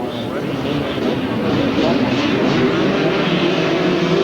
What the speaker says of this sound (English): This afternoon, they're revving up on the line already.